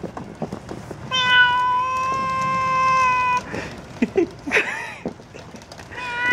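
A cat lets out a long, drawn-out meow, followed by a few shorter, strained meows and some rustling close by.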